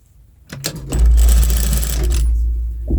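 An industrial straight-stitch sewing machine runs a seam on a bra cup, starting with a few clicks, then a loud, close, steady rapid whirring hum of about a second and a half before slowing and stopping.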